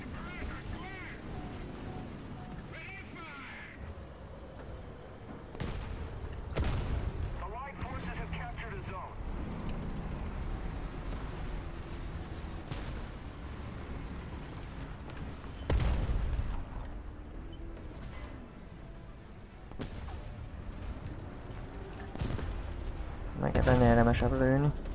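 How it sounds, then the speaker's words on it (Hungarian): Scattered gunshots and heavy booms in War Thunder, with sharp cracks and deeper cannon-like thuds spaced irregularly over an engine rumble, while someone talks throughout. "itt közben lövik a puskásomat"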